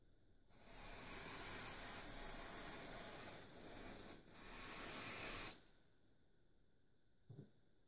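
A can of hair spray hisses loudly and close in three long bursts separated by brief pauses, sprayed onto freshly dyed pink and blue hair, followed by quiet and a small tap.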